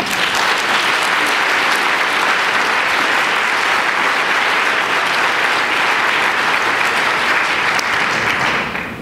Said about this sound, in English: That too deserves applause.